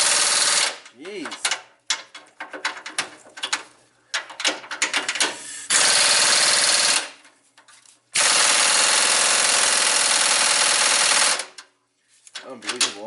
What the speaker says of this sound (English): Let's see if the Nano with this little swivel socket can get these guys off.